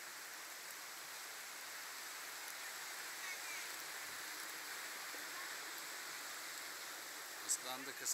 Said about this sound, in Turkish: Oo, çok fena yağmur bastırdı.